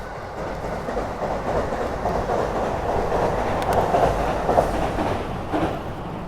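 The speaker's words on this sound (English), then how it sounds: "Here comes the train." Train rolling past a cyclist on a city commute in Nagoya, Japan; a steady, close rumble with rhythmic clickety-clack of wheels on rails and faint squeals, heard alone without talk.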